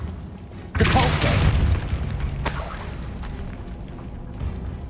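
A Depulso spell cast in Hogwarts Legacy lands as a sudden magical boom with a whooshing burst, followed by a second sharp crack and a fading rumble.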